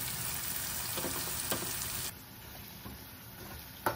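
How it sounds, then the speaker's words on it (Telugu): Onion pieces frying in a pan with cashews and whole garam masala, a steady close hiss of sizzling oil with a few soft stirring scrapes, the sizzle dropping noticeably quieter partway through. "ఆనియన్ ముక్కలు లైట్ బ్రౌన్ కలర్ వచ్చేంత వరకు ఫ్రై చేసుకుందామండి"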